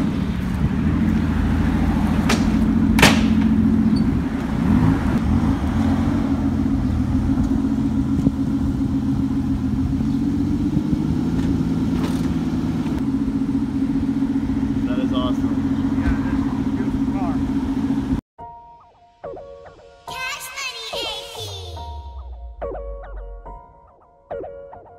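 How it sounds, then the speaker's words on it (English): An Aston Martin Zagato sports car idles with a loud, steady engine drone that surges in several revs for about eighteen seconds before cutting off abruptly, with people talking over it. "That, my friends, is an Aston Martin Zagato."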